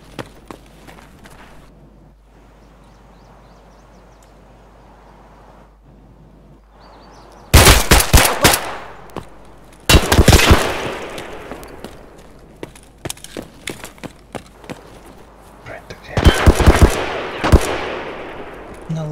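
Automatic gunfire in a shooter video game, firing 5.45x39 and 9x19 rounds, comes in several sharp bursts after a quiet start, with footsteps and soft in-game sounds between bursts.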